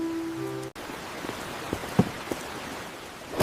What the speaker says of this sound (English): The rain is getting stronger.